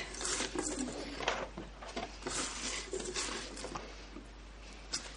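Salted potato pieces for a Spanish omelette are stirred and tossed in a bowl, making soft repeated pattering and scraping, fairly faint and close.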